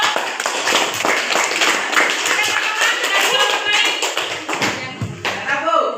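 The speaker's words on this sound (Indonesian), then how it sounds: "Kita berikan aplaus kepada kelompok." A group of people in a classroom bursts into steady applause, dense clapping that carries on for several seconds, loud and close.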